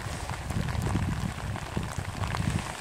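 Steady rain falls throughout, a dense close patter of drops striking surfaces outdoors during a river rafting trip, continuous and alone without talk.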